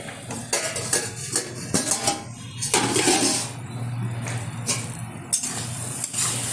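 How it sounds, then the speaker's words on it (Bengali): A cooking pot lid is lifted during the making of cabbage patoori with prawns, bringing metallic clinks and clatter from the pot and utensils over a low kitchen hum, with no speech. "ঢাকনাটা তুলে দিচ্ছি"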